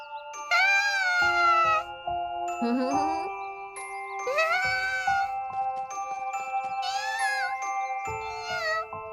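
A cartoon raccoon dog cub meows in high, wavering calls, several bursts separated by short pauses, with light jingling chimes in between and no talking.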